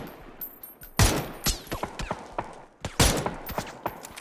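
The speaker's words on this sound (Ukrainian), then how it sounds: "ну вони там крепко стріляють" Rapid bursts of gunfire in the video game PUBG crack and echo, with two heavy volleys among scattered shots, sharp and loud, with no voices.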